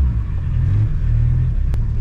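A car engine idles and revs with a steady, loud low rumble that stays close and continuous, with no talking over it.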